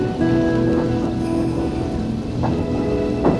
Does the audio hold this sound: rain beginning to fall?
yes